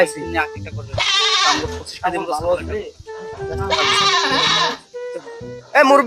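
Goats for sale bleat loudly and repeatedly, long wavering cries close by, with people bargaining in between and over them.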